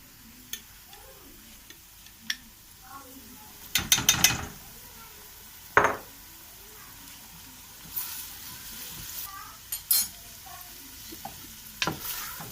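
Tomato paste hitting hot oil and onions in a pan while cooking keşkek, giving brief sizzling bursts among soft stirring and scraping clatter, with no talking.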